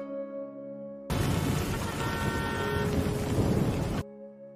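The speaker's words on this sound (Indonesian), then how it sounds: "Badai besar memang benar melanda kota mereka." Heavy rain pours steadily during a big city storm, a loud continuous wash of downpour that starts suddenly and cuts off abruptly, with no distinct thunder clap standing out.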